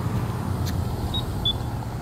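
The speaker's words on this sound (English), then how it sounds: "I'm gonna let all these cars go on by." Road traffic rushes past close by in a steady, loud wash of tire and engine noise, with a brief high beep or squeak standing out twice above the roar.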